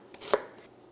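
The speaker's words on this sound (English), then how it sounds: "how you dice your onions is totally up to you on size" Knife dicing onions on a cutting board, a few quiet close chops with one sharper tap standing out, brief and without any talking.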